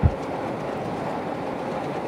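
A train crosses the Jamuna rail bridge in a steady, loud rumbling roll that stays close and continuous, with a thump at the start and no voices.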